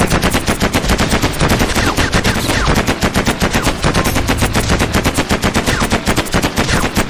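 Relentless rapid-fire bursts from gun turrets in the blocky video game Mini World, loud and continuous machine-gun rattle filling the whole stretch with no voices over it.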